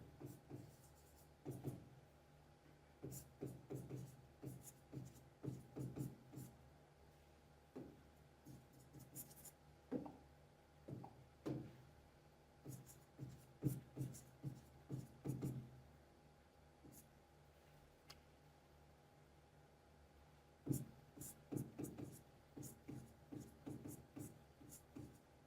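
Pen or marker writing on paper or a board while an electrochemistry equation is worked out, a steady run of soft scratchy strokes in bursts, faint and close, with pauses between lines.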